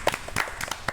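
Scattered studio clapping at the opening of a Korean talk show: a handful of sharp claps from a small group, irregular and close, lasting under a second.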